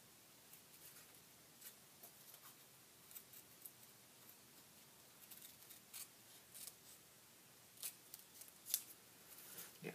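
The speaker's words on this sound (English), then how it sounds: "Cut around that C part." Scissors snip paper for a kite in a craft studio, with quiet, scattered crisp cuts and rustles, a few sharper snips near the end, no talking.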